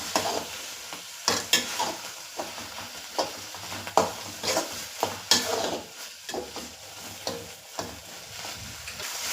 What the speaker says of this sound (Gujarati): હવે સરસ રીતે એને મિક્સ કરીશું.